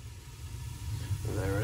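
A Burnham (US Boiler) gas boiler burner, already lit on its first stage, swells into a fuller, louder roar as the second stage opens near the end, a close steady rush with a faint low rumble beneath.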